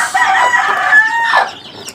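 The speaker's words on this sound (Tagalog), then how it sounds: "ayan ang inahin na yan" A mother hen with chicks clucks loudly and close by, drawn-out calls lasting about a second and a half, then fading to quieter clucks.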